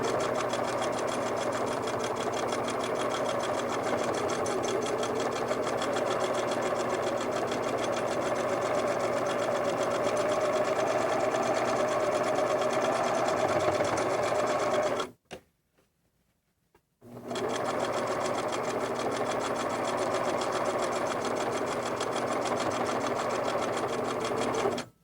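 A sewing machine stitches a quilt in a steady, fast mechanical whir that runs close and unbroken, stops briefly for a couple of seconds, then resumes at the same even pace.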